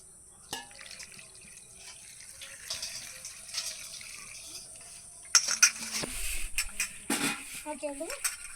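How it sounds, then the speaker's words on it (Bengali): Water is poured into a cooking pot, splashing and trickling near the mic along with clinks of utensils, and a voice speaks briefly toward the end. "এটার মধ্যে একটু জল দেয়।"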